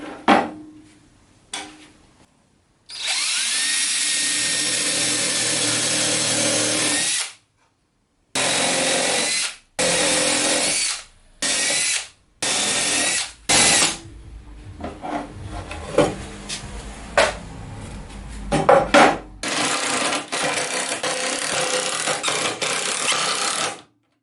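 A power drill drives screws into a wooden crosscut sled for a Bosch GTS1031 table saw, repeated close whirring bursts of varying length separated by short silences and small handling knocks.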